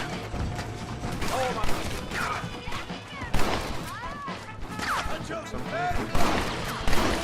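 Repeated gunshots crack through a chaotic Red Dead Redemption firefight, loud and irregular, mixed with shouting voices, crashes and clattering action.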